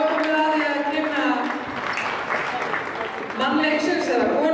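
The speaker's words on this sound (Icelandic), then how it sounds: "Gefið þeim gott klapp" A crowd at a girls' 10th-grade basketball game, Keflavík against Njarðvík, applauds in a dense, steady clatter of clapping that dips briefly midway and then swells again, with voices mixed in.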